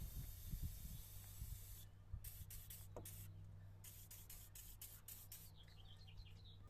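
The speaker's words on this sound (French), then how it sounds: "Je mets du WD-40 pour dégripper et dégraisser un max les zones sur lesquelles on va venir travailler" WD-40 is sprayed onto badly rusted steering linkage bolts on a BMW E30 in a series of short, sharp hissing bursts, several quick spurts in a row, close up and fairly quiet.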